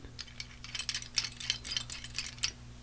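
Twisting the bottom knob of a Merkur 39C two-piece safety razor gives a quiet, close series of small metallic ratcheting clicks that repeat at an uneven rhythm.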